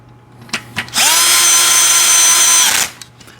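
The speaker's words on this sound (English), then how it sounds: "this one I'll use the power tool since we're right here" A power drill runs steadily for about two seconds driving a screw into a mobile TV stand, preceded by a couple of light clicks, close and loud.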